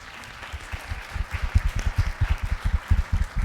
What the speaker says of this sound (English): So you should applaud her for